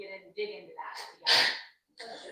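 A single sharp, loud sneeze bursts out during indoor conversation, preceded by a quick inhale, with a person talking just before and right after it.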